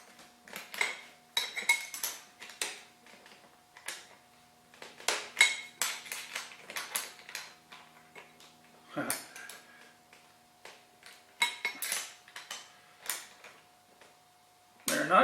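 Small wrenches clink and ratchet against metal fittings while an anvil mount on an old stump is tightened, with irregular close metallic taps and scrapes throughout and a louder clatter near the end.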